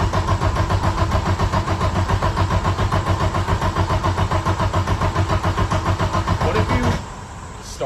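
A 1991 Audi 90 Quattro fitted with a big-turbo S2 engine cranks steadily and loudly with a rapid rhythmic churn for about seven seconds, then the starter drops off and the sound falls to a quieter hum.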